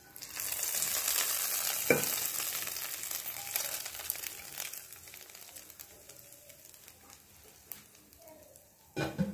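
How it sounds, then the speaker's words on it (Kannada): Mustard seeds and curry leaves crackle and sizzle in hot oil for a peanut chutney tempering, a steady close frying hiss with a few sharp pops, no talking. "ಒಗ್ಗರಣೆ ಹಾಕ್ಕೊಳ್ತಾ ಇದ್ದೀನಿ"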